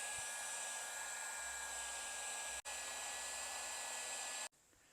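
A heat gun blows with a steady, loud whooshing hiss as it shrinks heat shrink tubing over soldered wires on a fuel sending unit, briefly cutting out midway, then shutting off near the end.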